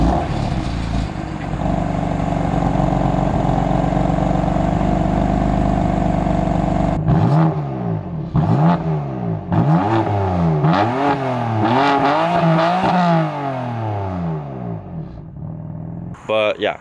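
A car engine with a fully stock exhaust idles with a steady low rumble, then revs repeatedly in rising and falling bursts, loud and close.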